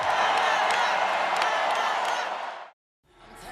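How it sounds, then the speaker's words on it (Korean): A standing crowd of about 24,000 cheers at the Democratic National Convention in Chicago as Kamala Harris appears, a loud, dense roar of voices and whoops that holds steady, then fades and cuts out abruptly. "관객 2만 4천여 명이 기립해 환호합니다"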